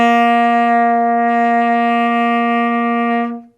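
A tenor saxophone holds a single steady C for about three seconds, a clean sustained tone at even loudness that fades out cleanly at the end, played alone with no talking.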